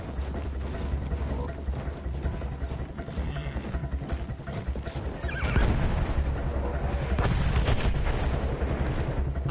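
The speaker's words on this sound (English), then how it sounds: "Fucking Brits, shelling their own position to cover a retreat" Artillery shelling on a Battlefield 1 battlefield, with dense rumbling booms and mechanical clatter throughout that grow louder and heavier past the midpoint, forming a continuous low-end roar.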